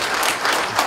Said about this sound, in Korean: 이하 동문 박수로 크게 환영해 주시기 바랍니다.